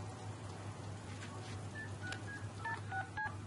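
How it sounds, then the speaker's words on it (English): In the Deadpool video game, a phone is dialed with a quick run of electronic keypad tones, the beeps fairly faint and stepping up and down over a quiet background. "Deadpool is dialing the phone."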